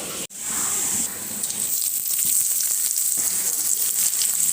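Potatoes, onion, garlic and green chilli fry in a pan, giving a loud, steady, close sizzle that starts abruptly after a brief gap and hisses on without pause. No one talks.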